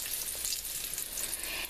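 Arancini balls frying in hot oil, a steady, close bubbling sizzle that holds for the whole moment with no voices.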